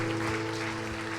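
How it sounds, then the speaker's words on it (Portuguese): Church congregation at a conference session applauding the Lord, a brief, sustained wash of clapping with a steady hum underneath. "Você pode aplaudir o Senhor mais uma vez?"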